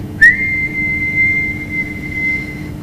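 A loud, sharp whistle starts abruptly and holds one steady high pitch for over two seconds before fading, a sound effect mistaken for a snake's hiss, alone over a low background.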